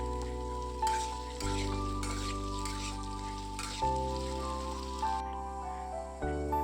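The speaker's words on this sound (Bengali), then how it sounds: "আলুটা একটু আগে ভেজে নিই" Potato pieces fry in a pan of oil, a soft, steady sizzle running close by at moderate volume, with a low tonal hum beneath and a few brief bumps as the pan is handled.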